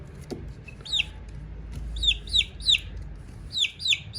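A small chick cheeps in quick, high, thin peeps, several in a row, close by over faint background noise.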